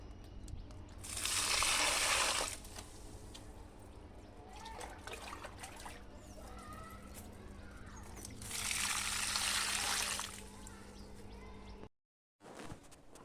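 Liquid fertilizer water being stirred and poured onto rose plants in a garden, two bursts of splashing pouring separated by quieter trickling and dribbling, ending in a brief cut to silence.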